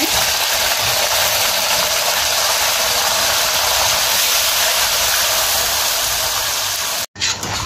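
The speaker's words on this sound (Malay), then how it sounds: "Lepas ni kita goreng cili pula" Chilies fry in hot oil in a pan, giving a loud, continuous crackling sizzle that runs steadily before cutting off abruptly near the end.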